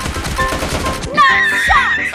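Rapid automatic gunfire from the video game PUBG, a tight burst of close shots followed by ringing, whooshing effects, with a voice briefly heard.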